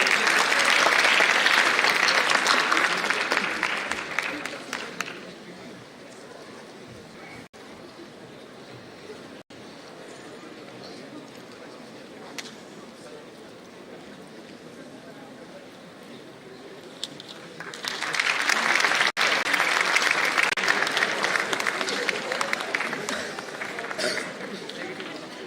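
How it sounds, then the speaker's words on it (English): Audience applause at an international academic conference swells loudly, fades to a quieter stretch of murmuring and scattered claps, then returns as a second full burst of clapping. "Please give a huge round of applause for them."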